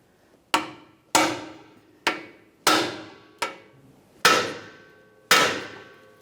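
Seven sharp, ringing metal hammer blows driving a larger seal driver into the rear differential axle tube of a 1999-2006 Chevrolet Silverado 1500, evenly spaced strikes with short decaying rings, close and loud with no talk.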